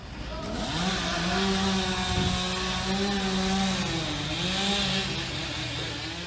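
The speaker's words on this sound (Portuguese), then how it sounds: "o podcast utiliza os sons da serra elétrica de fundo" A chainsaw runs in the background of a podcast, its engine drone rising and falling in pitch as it revs, heard steadily for several seconds with no talk over it.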